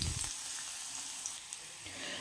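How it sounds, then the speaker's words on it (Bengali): Chopped garlic and chili flakes frying in a small amount of oil, a soft, even sizzle heard close but quiet for a couple of seconds, with no talking. "দেখুন তেলটা কম করে নিয়েছি, এর মধ্যে মিশিয়ে দিলাম ছোটো ছোটো করে রসুন কুচি,"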